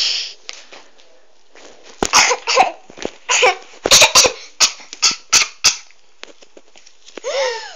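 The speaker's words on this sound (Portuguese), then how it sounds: "Ela está com tosse." A run of short, sharp coughs in quick bursts, some with squeaky catches, close by with brief pauses between them.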